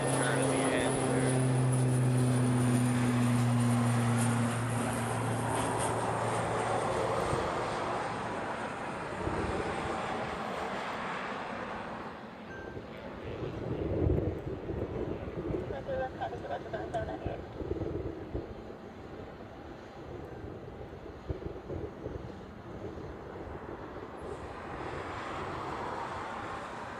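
Airliners, Qantas and Korean among them, taxiing and turning at Honolulu airport during a morning rush, heard as a loud, steady jet engine roar from a distance that slowly eases, with someone talking over it.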